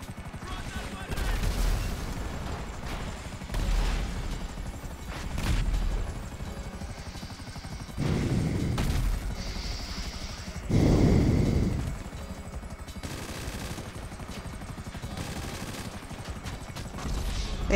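Video game gunfire bringing down a helicopter: bursts of automatic shooting and heavy booms over a rotor drone, with a louder explosive blast near the middle and brief voices mixed in.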